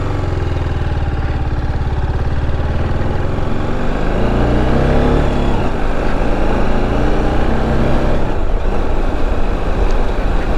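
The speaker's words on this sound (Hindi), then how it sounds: "तो अभी मैं बाइक स्टार्ट करके चलाता हूँ" An RR 310 motorcycle engine runs close and loud, chugging at a steady idle before revving up and settling into a rising, throbbing drone as it pulls away; no talking.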